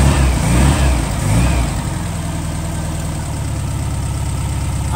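A car engine idling steadily after an ignition adjustment, loud and close, with a slight revving swell at the start before settling into an even, continuous rumble.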